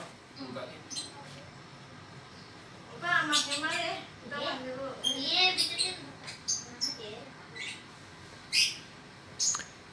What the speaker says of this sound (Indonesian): Galak banget ini burungnya.